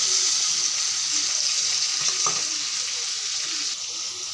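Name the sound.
onions frying in oil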